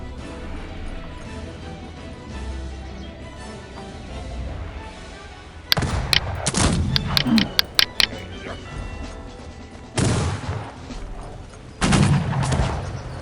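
Irregular volleys of musket shots in the strategy video game Cossacks 3 ring out after a quieter stretch of background rumble, with sharp cracks in clusters and two later heavy bursts.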